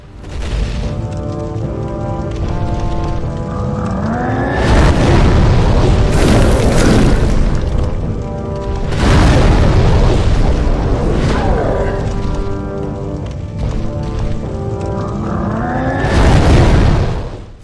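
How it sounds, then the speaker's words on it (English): Deep booming blasts erupt several times, loud and heavy, over a slow sustained organ-like musical backdrop: the Flame Lurker boss's explosions in Demon's Souls. "the deep, slow sounds of the organ are punctuated by Flame Lurker's powerful explosions"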